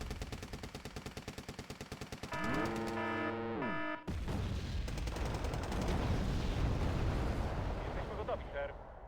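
Rapid gunfire and heavy blasts from an SPG-9D recoilless gun in a video game, sharp repeated reports followed by a loud explosive boom and a long rumbling aftermath, with a tonal siren-like sweep in between.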